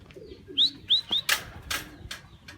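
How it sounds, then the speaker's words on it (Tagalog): Racing pigeons at a loft call and coo in a few short, close notes, with a flutter of wings and scattered chirps over a quiet outdoor background. "Eto mga kalapatid, si Blue Bar liit yung nauna"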